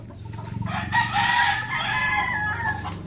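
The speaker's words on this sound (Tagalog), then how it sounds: "Mga manok." Chickens in a yard with Shamo fighting stags, a rooster crowing loudly and close amid clucking from other birds, the crow drawn out over a couple of seconds.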